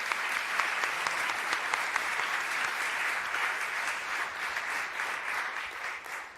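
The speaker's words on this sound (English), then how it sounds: "let's give a big round of applause to the people who so gracefully took this panel tonight" Steady, dense applause from an audience at an evening public forum on a state's fiscal health, continuous clapping filling the room at even loudness throughout with no speech over it.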